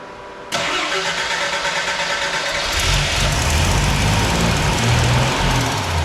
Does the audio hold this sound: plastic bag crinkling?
no